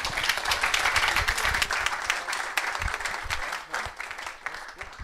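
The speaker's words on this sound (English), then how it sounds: "Big round of applause" An audience at a product management meetup applauds warmly, a dense, continuous wash of many hands clapping that holds steady for several seconds before slowly thinning out.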